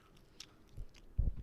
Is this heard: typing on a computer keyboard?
no